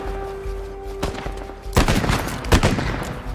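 A gun fired in the video game Uncharted 4: A Thief's End: a fainter shot, then two loud, sharp blasts a little under a second apart, each with a short booming tail.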